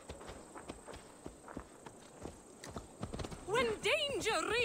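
Rhythmic clip-clop of horse hooves on the move in Assassin's Creed Valhalla, steady and fairly close, with a horse whinnying near the end over a busy game background.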